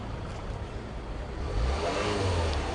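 A car engine revs up as the accelerator is pressed at a pollution check centre in Delhi-NCR, a low rising drone swelling louder halfway through and holding, fairly close, with no talk.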